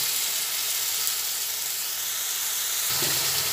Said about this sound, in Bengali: একসঙ্গে সব মিশিয়ে তেলের মধ্যে দিয়ে অল্প পরিমাণে লাল লাল করে ভেজে নেব।